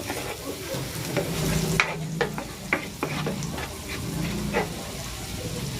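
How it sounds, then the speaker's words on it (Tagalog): Garlic sautés in butter in a pan, giving a busy, close sizzle with clattering stirring strokes and scrapes at irregular intervals, and a dog barks faintly in the background. "Igigisa ko na tong bawang. Maglalagay na ako ng butter."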